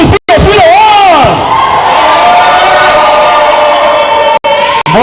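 A large festival crowd roars and cheers loudly and continuously, with shouts and whoops rising over a sustained wall of voices, broken by a couple of brief cutouts.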